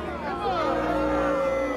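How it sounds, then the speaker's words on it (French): Angry crowd gathered at a public hanging beside a scaffold, a steady murmur of many voices that swells after a moment into louder shouting and cheering, sustained and fairly close throughout. "Le son de la foule se fait entendre."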